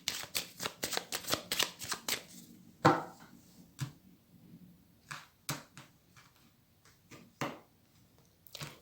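Tarot cards are cut and shuffled up close: quick bursts of riffling and crisp slaps come in a rapid run, then a sparser series of single snaps and flicks separated by short pauses.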